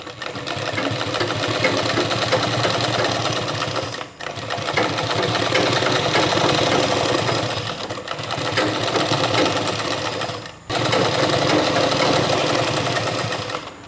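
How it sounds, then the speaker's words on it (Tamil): A sewing machine runs steadily, stitching a folded one-inch hem on a baby's pyjama pant. The whirring is close and continuous and stops briefly three times before starting again. "இப்போ தைக்கலாம்."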